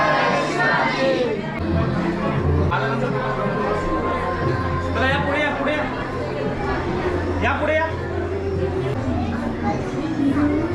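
Crowd chatter fills the Chhatrapati Shivaji Maharaj temple in Bhiwandi, a steady dense babble of many overlapping voices after the rain, close and continuous throughout.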